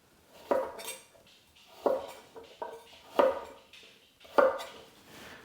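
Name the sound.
knife cutting carrots with oblique rolling cut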